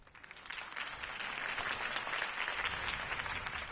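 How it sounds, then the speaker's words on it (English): A crowd applauds after a campaign speech, a dense steady clapping that swells slightly and holds, heard from amid the audience. "could have heard that applause"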